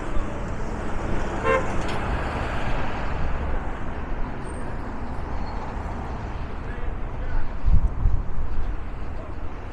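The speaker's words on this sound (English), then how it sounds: "Now I gotta compete with these turn-in cars." Street traffic on Coney Island Avenue in Sheepshead Bay, Brooklyn, with cars turning through an intersection, a steady roar of passing vehicles and a brief horn toot, heard close up by a pedestrian who talks over it.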